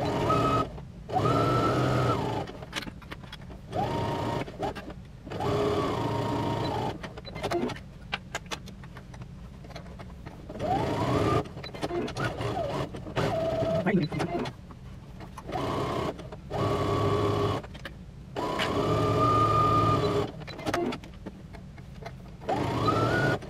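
Sewing machine stitching swimsuit fabric in repeated bursts of fast mechanical whirring, each run stopping and starting again with short pauses between, close and fairly loud.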